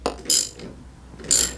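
Lotus Elise brake caliper piston pushed back into its bore with a ratcheting tool: two short bursts of crisp mechanical clicking, close and fairly loud, separated by a quieter pause.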